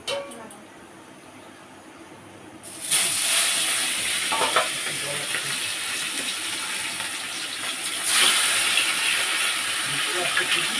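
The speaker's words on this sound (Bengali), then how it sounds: "এবার মাছগুলো ছেড়ে দিচ্ছি" Fish pieces drop into hot oil and set off a sudden loud hiss and sizzle that stays steady and near, surging again as more fish goes in.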